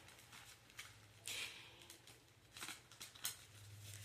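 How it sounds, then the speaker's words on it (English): Tarot cards shuffled by hand, with soft riffling and sliding bursts at irregular intervals, quiet and close, over a low steady hum. "as I'm shuffling these cards,"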